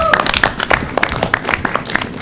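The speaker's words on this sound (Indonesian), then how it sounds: "tepuk tangannya emang live audience" A live audience claps steadily at an Enterprise Agility talk, a short run of close, uneven hand claps that sounds like a small room.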